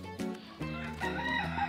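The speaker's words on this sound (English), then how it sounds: "The rooster's not afraid of you" A rooster crows close by, a loud, brief, harsh cock-a-doodle-doo with rising and falling tones and no voices over it.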